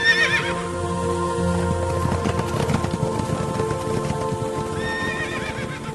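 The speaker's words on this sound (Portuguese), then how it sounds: "O primeiro carro era puxado por cavalos vermelhos, o segundo por cavalos pretos, o terceiro por cavalos brancos e o quarto por cavalos baios." Horses pulling war chariots neigh loudly at the start and again near the end, while hooves clop steadily in between in a close, rhythmic patter, with no voices.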